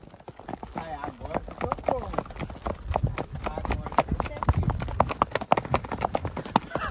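A mare's hooves pound rapidly on the ground in a fast galloping rhythm during a group trail ride, close and loud, with excited shouting voices over the running horse.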